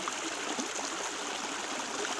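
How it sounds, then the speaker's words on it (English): Water flowing in a natural stream gives a continuous, even rushing and babbling sound, close by and steady throughout, with no voices. "to see and hear the sound of the water"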